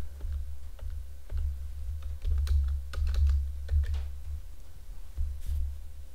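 Close computer keyboard typing, with irregular clicks and bursts of keystrokes over a low steady hum while entering numbers into a spreadsheet.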